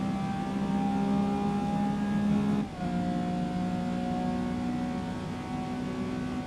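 A Lamborghini Countach engine in Gran Turismo 7 drones at a steady high pitch, dropping suddenly with a brief lift after a couple of seconds and settling into a slightly lower sustained tone.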